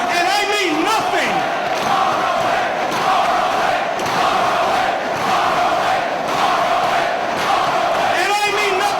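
A packed live wrestling crowd at the Manhattan Center, at a Ring of Honor event, keeps up a loud, continuous roar of cheers and shouts, with voices swelling throughout.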